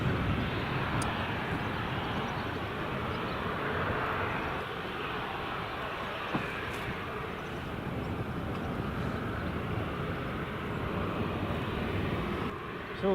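Steady broadband roar of TUI and EasyJet airliners at Newcastle International Airport, a continuous jet rumble heard from a distance across the field, holding level throughout with no voices.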